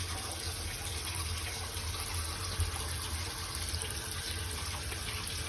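Tap water runs steadily in a bathroom sink. It makes a continuous even hiss and splash at low volume and is heard on its own.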